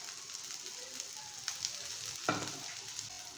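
Besan bread pudla frying in oil on a pan, with a steady close sizzle throughout and a brief louder crackle midway.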